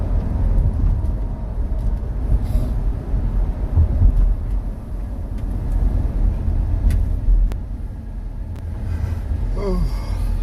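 A car drives along with a continuous broad road and engine rumble heard from inside, steady and fairly loud with small bumps and rattles.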